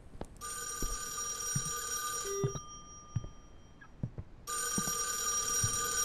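An old telephone rings inside a horror video game, two long loud bursts of bell ringing separated by a short pause, with footsteps and small thumps beneath and no talking.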